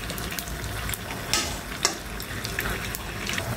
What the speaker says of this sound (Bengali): জাস্ট এভাবে দুই সাইডেই তোমরা গরম তেল দিয়ে দেবা